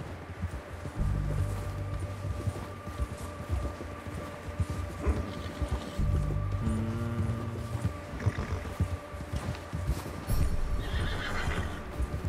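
A horse in the video game Red Dead Redemption 2 whinnies and neighs several times over steady clip-clopping hooves, with a low game score and ambient sounds running underneath throughout.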